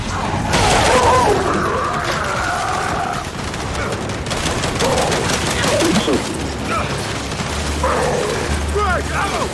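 Turret gunfire in the Gears 5 video game, sustained loud bursts of rapid fire and impacts under shouted in-game voices and continuous battle noise.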